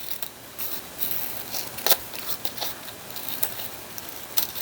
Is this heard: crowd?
no